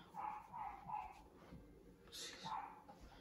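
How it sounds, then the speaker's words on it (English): A dog barks behind a closed door, several muffled, fairly faint barks and yips at an uneven rhythm, with a brief higher sound partway through. "So that's my dog, which is barking very loudly"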